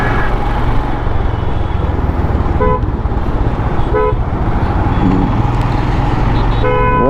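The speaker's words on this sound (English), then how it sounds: "Who are you honking at?" Short car horn toots sound several times over a steady roar of road traffic and engine noise on a drive from Bengaluru to Thanjavur, India, the honks brief and spaced apart.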